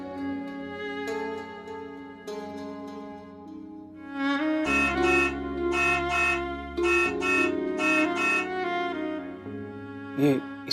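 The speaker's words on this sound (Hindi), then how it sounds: "ये इस समय हॉर्न कौन बजा रहा है?" A car horn honks in a series of short and longer toots over a backing of sustained drama music, moderately loud and somewhat distant, with no talk.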